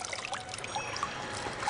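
Brook water trickles softly as a radio drama sound effect, a faint continuous babble with small bright droplet splashes scattered through, heard alone without speech.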